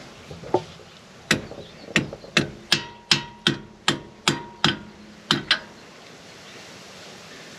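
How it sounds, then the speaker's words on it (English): A dozen sharp metallic hammer strikes on an RV trailer wheel bearing part land at a steady, fairly quick rhythm, close and loud, followed by a quiet stretch. "And hit it with a hammer."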